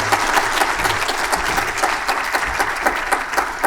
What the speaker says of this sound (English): Big round of applause for Joanne.